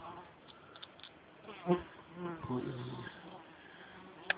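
Honeybees buzzing at a hive entrance give a steady close hum with passing individual bees droning louder near the middle, while someone speaks quietly underneath.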